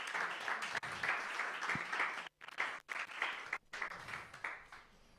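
An audience at a science talk applauds steadily for several seconds, the clapping dipping briefly a few times before continuing, fairly distant and soft.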